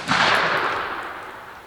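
A single loud 9mm rifle shot fired into a ballistic gel block, a sharp close crack with a ringing tail that fades over about a second and a half.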